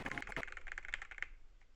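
Computer keyboard keys clatter in a quick burst of close taps, then thin out to a few scattered clicks near the end.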